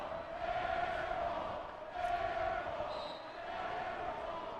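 Home crowd at a men's college basketball game, Salve Regina v. Western New England, reacting after a missed three-pointer goes out of play; a broad, steady arena murmur and jeer swells twice, with an announcer talking over it.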